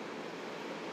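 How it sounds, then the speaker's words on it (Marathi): Steady wind rushes across an open beach on Neil Island, a dense, even roar that never lets up. "ओ माय गॉड, काय मस्त वारा येतो माहितीये का"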